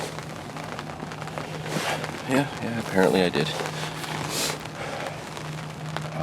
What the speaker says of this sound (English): So yeah, it's pouring rain.